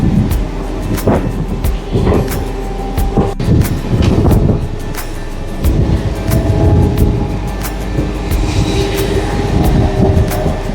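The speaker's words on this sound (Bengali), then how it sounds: "মেচেদা থেকে আমাদের ট্রেন ছেড়ে দিল" A Howrah–Digha local train runs on after leaving Mecheda, a loud steady rolling rumble punctuated by sharp rhythmic clacks of wheels over rail joints, heard from on board.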